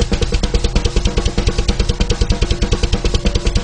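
Drum kit pounding out a Swiss triplet blast beat at full tempo, a dense, loud, continuous rapid rhythm of kicks, snare and cymbals with no pauses or talk.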